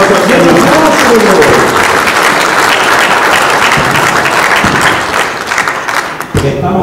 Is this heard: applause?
yes